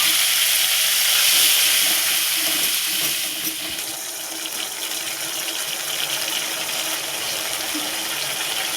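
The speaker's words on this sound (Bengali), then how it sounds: "বেটে রাখা মশলাটা দিয়ে দিচ্ছি।" Ground spice paste tipped into a pan of deep-fried onions for a Bengali mutton curry, giving a loud, continuous hiss and sizzle that settles into steady, slightly quieter frying after a few seconds.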